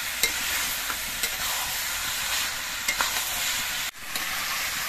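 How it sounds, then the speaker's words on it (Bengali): Banana flower mixed with salt and turmeric is stirred in a hot pan, giving a continuous loud sizzle with regular spatula scrapes and taps, then a brief dip before the frying resumes. "নুন হলুদটা দিয়ে নেড়ে চেড়ে মিশিয়ে দিতে হবে।"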